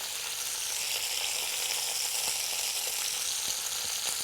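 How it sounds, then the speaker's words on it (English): Chicken thighs browning in a pan on a Cuisinart MSC600E multicooker, with lemon and rosemary, give off a steady, dense sizzle and crackle that stays close and even throughout, with no talking. "You can really hear it sizzling."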